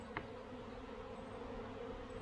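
Honeybees from a swarm on La Réunion island give off a faint, steady buzzing hum that holds evenly throughout, with no voices.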